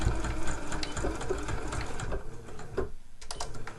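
A sewing machine runs steadily while stitching a top-stitched seam on a zip tote bag, its rapid mechanical chatter continuous and close, with a brief pause near the end before it resumes.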